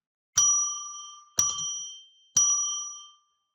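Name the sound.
bell rung three times to declare sacred space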